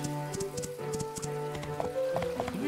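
A ridden horse's hooves clip-clop in a steady trotting rhythm in the game My Time at Portia, up close over a background of soft game music.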